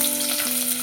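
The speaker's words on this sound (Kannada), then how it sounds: "ಈರುಳ್ಳಿ ಚೆನ್ನಾಗಿ ಫ್ರೈ ಆಗಿದೆ." Lengthwise-sliced onions frying in a few spoonfuls of hot oil while cooking tomato peas pulao give a brief, steady, close sizzle with no talking.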